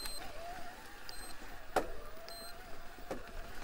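Shimano EP801 motor on a Canyon Spectral eBike in Eco mode: a faint, steady electric whine holds throughout, with occasional light clicks and one sharper knock from the bike partway through.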